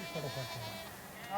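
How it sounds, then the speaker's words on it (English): Sheep grazing on a high Himalayan pasture in Kashmir, at about 3,800 meters, bleat in short, wavering calls at moderate distance, mixed with a steady outdoor background and a speaking voice. "thousands of sheep feed on the choicest grasses and plants"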